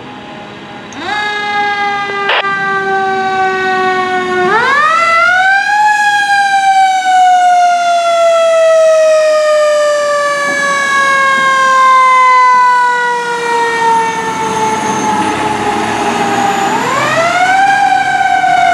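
A fire truck siren from Maywood Fire Department Truck 17 responding to a call, loud and close, wailing up and down in long sweeping rises and falls over a low engine hum.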